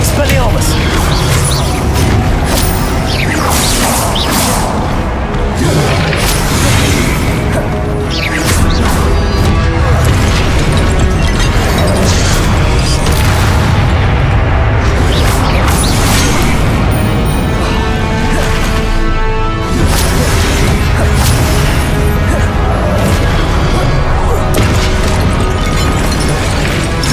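Spell blasts and Confringo explosions crash repeatedly through combat in the video game Hogwarts Legacy, a dense, loud, continuous barrage of impacts and bursts layered under game noise and voices.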